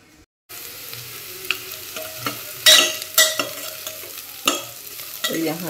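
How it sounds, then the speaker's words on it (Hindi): Oil sizzles and crackles steadily as spices fry for a tadka, with occasional scraping stirs and clinks of a utensil against the pan. "तो यहाँ ये तड़का हो रहा है"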